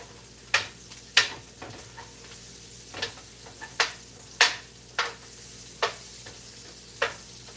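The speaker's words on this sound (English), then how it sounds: "let it get the color and start really, browning" Beef browning in a pot for stew makes a low background sizzle broken by about a dozen sharp, bright clinks and scrapes spaced at irregular intervals, close and fairly loud, with no one speaking.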